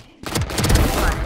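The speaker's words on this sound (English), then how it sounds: "Swarm grenade out." Killjoy's swarm grenade detonating in the Valorant video game, a loud burst of overlapping crackling blasts that sets in abruptly and keeps popping densely for about a second at close range.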